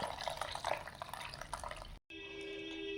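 Hot rasam splashes and trickles as it is poured into a pan, a busy, faint liquid pour lasting about two seconds before a brief cut to a quieter steady hum.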